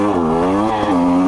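KTM TPI two-stroke dirt bike engine revving close by, a buzzy rising note that dips briefly and climbs again, loud and alone over about a second.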